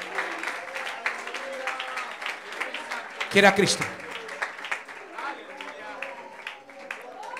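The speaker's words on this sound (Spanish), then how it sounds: "Más fuerte ese aplauso." A church congregation at an evangelistic service claps steadily in the background while a preacher speaks over it, with one brief louder burst near the middle.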